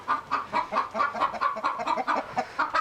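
A hen clucks an egg song inside a chicken coop, a steady run of rhythmic, close clucks repeating without pause.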